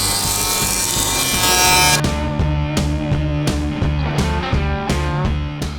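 Wood planer bites into a board with a loud rasping roar, then continues with a series of rhythmic knocks and thumps as the machine runs.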